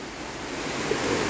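Broad steady rush of river water flowing near the Kateel Durga Parameshwari temple, likely the Nandini river, a continuous wash of noise with light wind, no talk, holding evenly throughout.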